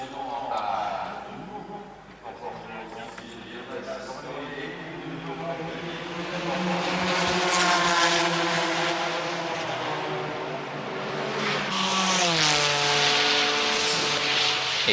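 Race cars at the 1994 Le Mans 24 Hours drone and whine steadily through the circuit, their engine note swelling midway, while a French commentator talks continuously over the top.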